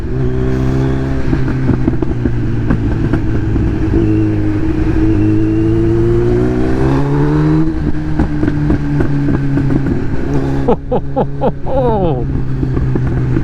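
Motorbike engines drone loud and close on a road ride alongside a Kawasaki Z900, revs rising and falling continuously, with a fresh burst of climbing engine pitch near the end.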